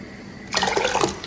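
Hot water from a cooking pot of waakye pours out in a short, close splashing gush that starts suddenly after a quiet moment.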